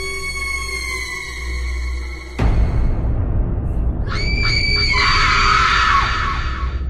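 A woman screams in fear, loud and sustained, starting midway with a sudden burst of sound and continuing in long, shrill wails over a dense, dramatic background.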